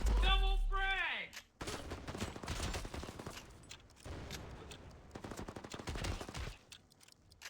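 Rapid bursts of video game gunfire crackle densely through most of the stretch, loud and continuous with brief gaps, opening with a rising synthetic tone as a grenade goes off in a multiplayer shootout.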